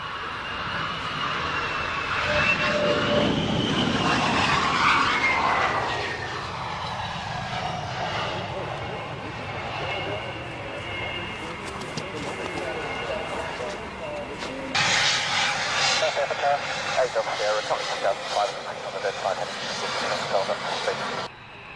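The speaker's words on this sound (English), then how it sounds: "it's a Raptor, in fact it's one formation, Raptor and F-15 to recover." A Raptor and an F-15 military jet flying in formation: a loud engine roar with a falling whine passes and fades, then a second burst of harsh jet noise follows later, with voices heard at times.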